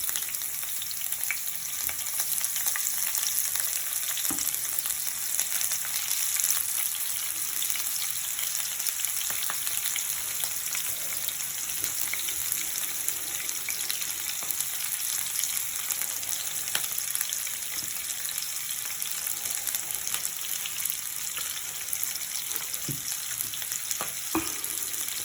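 Chopped green chillies and onions fry in hot oil for cashew upma, a steady close sizzle with occasional stirring scrapes throughout, and no talking.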